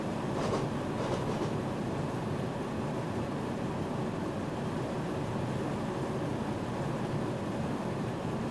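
A train in Train Simulator Classic rolls along with a steady, rather quiet rumble and broadband running noise, smooth and unbroken throughout with no voices.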